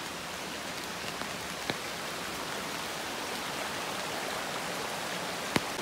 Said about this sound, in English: it has led me actually to this really, really pretty stream down below to the left of the fall.